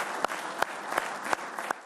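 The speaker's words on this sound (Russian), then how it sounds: "Давайте поаплодируем стоя." An audience gives a standing ovation to a war veteran, a Hero of the Soviet Union, in Tatarstan, with soft background clapping punctuated by a few sharp, evenly spaced claps.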